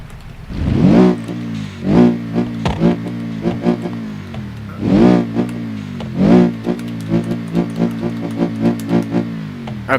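A turbocharged drift car with an X-pipe exhaust revs repeatedly near the microphone, its engine rising and falling in rhythmic pulls and blips with a whirring, clattery edge, loud and without talk.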